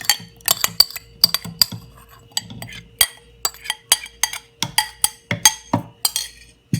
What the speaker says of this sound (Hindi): उसका पल्प हम ब्लेंडिंग जार में डालेंगे